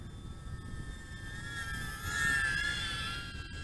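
An Emax Tinyhawk-S FPV micro drone flies and throttles up, its thin high-pitched motor whine faint and steady, rising and swelling briefly in pitch and loudness midway before settling again.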